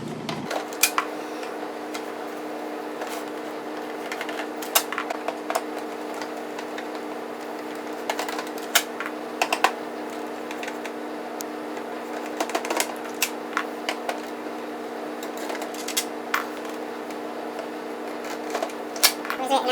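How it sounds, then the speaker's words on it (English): Phillips screws are taken out of a PlayStation 3 Slim console with a screwdriver, making scattered small clicks and ticks across a steady background hum, while a person talks through much of it. "Then we're just going to take all these Phillips screws out right here."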